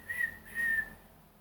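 A voice imitates a man whistling in a co-op, two short sustained whistled tones with a brief gap, fairly quiet and alone with no talk.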